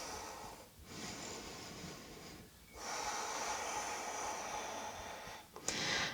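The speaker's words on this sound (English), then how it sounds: "2 big breaths here." Deep, slow breaths drawn in and released during a vinyasa yoga splits flow, two long airy inhale-exhale cycles, close and fairly soft with no talking.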